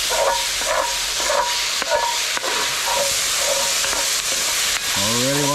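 Chopped onions for chili sizzle and hiss steadily in a hot pan at a rainy truck campsite, with a rhythmic scraping of stirring throughout and a brief rising tone near the end.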